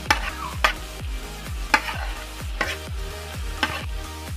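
Vegetables stirred into sizzling masala in a pan for chicken samosa filling: a steady frying hiss with rhythmic spoon scrapes and clanks about once a second, close and moderately loud, no talking.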